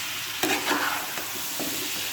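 Dried fish (shutki) stirred in a hot pan, a few scraping strokes of the spoon breaking over a steady, close sizzle of frying, with no talking.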